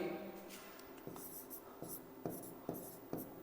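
A pen or chalk writes a physics formula for acceleration during a lesson, producing close scratchy strokes with a series of sharper taps and ticks as each symbol is finished, heard alone without talking.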